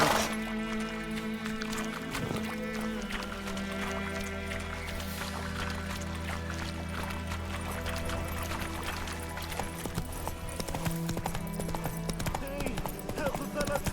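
Roach the horse gallops in The Witcher 3 with a continuous, rhythmic clip-clop of hooves. A musical score plays underneath, and a voice speaks briefly.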